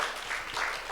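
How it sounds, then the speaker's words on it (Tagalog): Brief burst of clapping from a church congregation at a Sunday service, a dense, even patter of many hands with no gaps. "Yung palakpak po na pinagpala ng Panginoon"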